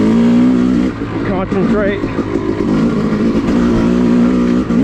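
A Yamaha YZ250 two-stroke dirt bike engine on an off-road trail at an OHV area, buzzing and revving steadily up and down close by, with a brief spoken word over the engine.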